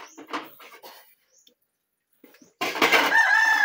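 A loud rooster crows close by near the end, a long strained call after a few soft clucks and a quiet pause.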